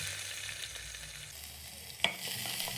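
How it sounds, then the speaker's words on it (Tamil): Onion, garlic and cumin sautéing in oil, a soft continuous frying hiss with one sharp clink of a utensil near the end, close and quiet with no talking. "இப்போ லைட்டா வதக்கிக்கோங்க"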